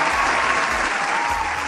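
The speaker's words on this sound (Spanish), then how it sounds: "Fuerte el aplauso, por favor." Steady, dense audience applause from a crowd during a live show, loud and continuous without a break for its short length.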